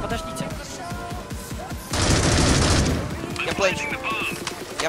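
Gunfire in Critical Ops strikes the player as a dense, loud burst of rapid shots lasting about a second, with chatter and speech-like game sounds before and after.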